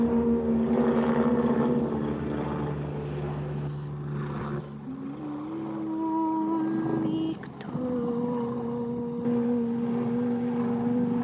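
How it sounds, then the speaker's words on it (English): A Chinook helicopter flies overhead: a steady low engine and rotor drone, a deep throbbing hum that shifts slightly in pitch as it passes, continuous throughout. "I can hear the helicopter going over a Chinook."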